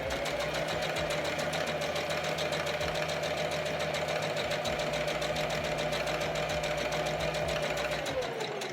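A sewing machine runs a continuous line of stitching across the top edge of a cloth face mask, a steady close mechanical whirr with rapid needle clatter that holds evenly, then slows and stops at the very end.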